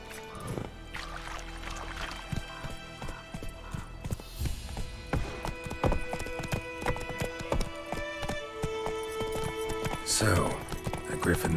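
Horse hooves clip-clop at a steady gallop in The Witcher 3, loud and continuous under game music, with a brief whinny near the end.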